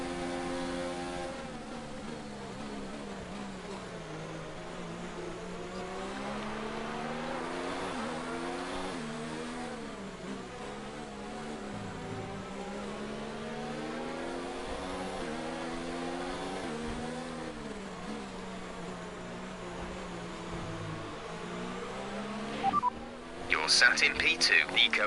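Formula 1 race car engines in F1 2019 at the USA Grand Prix, a steady high-pitched whine rising and falling through gear changes for a long stretch, with wet-weather tyres on track, under a driver's talk, ending in a sharper burst.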